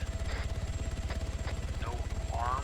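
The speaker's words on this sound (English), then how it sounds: "It's one of the black helicopters." A black helicopter in an open-world zombie video game thumps with a steady, fast rotor pulse throughout, at moderate distance, with faint voices and a few brief game sounds over it.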